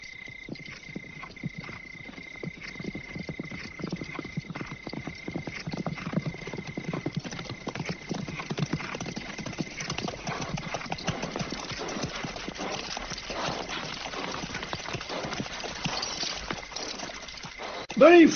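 Hundreds of cavalry horses gallop in a dense, continuous rumble of hoofbeats that grows fuller as it goes, with scattered whinnies and faint voices mixed in.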